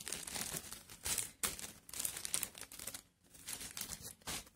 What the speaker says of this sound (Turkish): Çünkü ister istemez açarken biraz poşet sesi gelecektir size de.